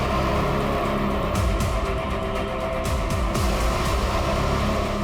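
A car reversing on a road, its engine rumbling and revving close by in a continuous low drone, with a few sharp knocks and clatters midway.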